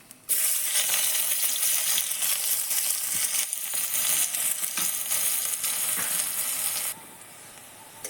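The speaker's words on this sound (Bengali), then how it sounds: "তেলের মধ্যে গোটা জিরে ফোড়ন দিলাম পেঁয়াজগুলো দিয়ে দিলাম" Sudden loud sizzle as onions and whole cumin hit hot oil over a wood-fired clay stove, crackling steadily for several seconds before easing to a quieter fry.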